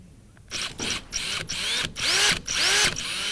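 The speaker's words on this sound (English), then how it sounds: "we're going to drill our 2 3/4 inch hole in the tank, in the bottom of the tank" A power drill cuts a 2 3/4 inch hole through the center-punched bottom of a fuel tank during a sump kit install, running in several short, loud bursts separated by brief pauses, with no talk.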